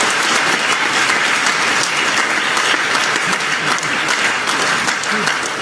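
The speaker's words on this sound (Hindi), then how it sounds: "समझ में आया तो ताली बजाओ" An audience at a company talk in Kanpur claps in a loud, sustained round of applause from many hands, with a dense, steady patter throughout.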